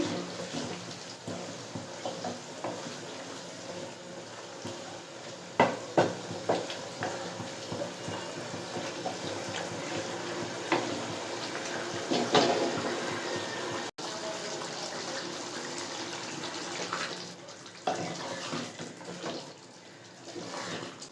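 Water poured into a pan of doi chicken (chicken cooked in yogurt) while cooking, a faint, steady splashing and trickling with a few soft clanks of utensils, no talking.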